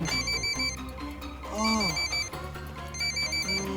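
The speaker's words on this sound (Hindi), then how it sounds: "मैडम का फोन।" A phone ringtone plays a repeating electronic melody, loud and close, with a brief voice and rustle mixed in.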